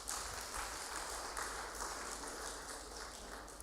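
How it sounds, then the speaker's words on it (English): A conference audience at an administrative assistants' retreat claps steadily as they wait for Dr. Mary Ann Mwangi to arrive. The applause is a sustained, dense wash of many hands at even loudness throughout. "continue applauding until she comes"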